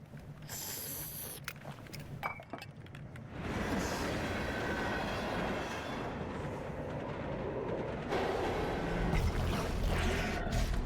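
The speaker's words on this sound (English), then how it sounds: "I'm on the train." A train riding on rails in the video game Zenless Zone Zero: scattered clicks and clatter at first, then a steady, moderately loud rolling rumble that continues throughout.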